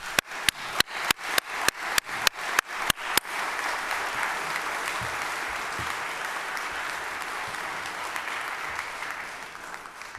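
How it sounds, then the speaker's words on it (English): A legislative chamber gives a round of applause for a veteran, opening with a run of distinct, loud claps that quickly merge into sustained, even clapping from a sizable crowd lasting several seconds. "would you please give him a round of applause"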